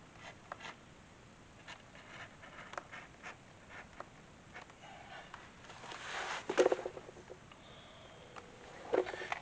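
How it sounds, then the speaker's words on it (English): Excess leather being trimmed from a bag piece on a table, faint scattered cutting and rustling sounds with a few louder scrapes and handling noises near the end. "I'm cutting down this side so I can get rid of this excess leather"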